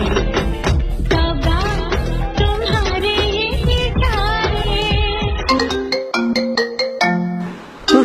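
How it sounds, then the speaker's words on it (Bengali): A mobile phone rings with a melodic ringtone for an incoming call, loud and continuous, alone without speech. "শালা এসব আবার কে ফোন দিল?"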